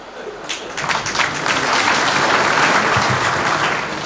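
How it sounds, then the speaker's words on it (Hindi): Audience clapping at a Hindi kavi sammelan poetry gathering, starting thin and scattered and swelling into full, steady applause from the crowd that continues to the end. "एक आदमी ने जरा सी ताली बजाई है"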